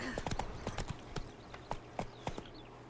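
Roach the horse from The Witcher 3 clip-clops along in a quick, uneven rhythm of distinct hoof strikes, moderately close, with faint background ambience and no talk over the steps.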